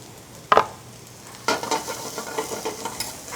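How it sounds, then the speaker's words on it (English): Mushrooms hit a hot pan of extra virgin olive oil: a sharp clatter, a pause, then a sudden loud sizzle that keeps crackling and popping close by, with no talking. "Hot pan, extra virgin olive oil, mushrooms inside."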